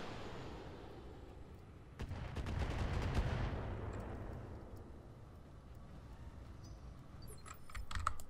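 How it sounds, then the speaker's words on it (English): Heavy weapon fire in the mech game Roguetech, a Gauss rifle discharge with a rumbling swell and sharp cracks, faint and distant in the mix, followed by scattered metallic clicks. "Gonna put both Gauss rifles into him."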